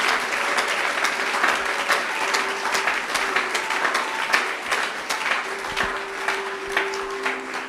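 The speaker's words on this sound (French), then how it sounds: "Acclamez Jésus." A church congregation applauds steadily at a Sunday service, dense clapping from many hands filling the room throughout at an even level, with faint voices mixed in.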